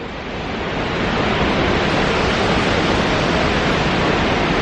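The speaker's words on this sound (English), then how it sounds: "Now this waterfall is definitely worth the trek." Khone Phapheng Falls in Southeast Asia roars as a steady, dense wall of rushing water, building slightly in the first second and then holding loud and constant throughout with no voices.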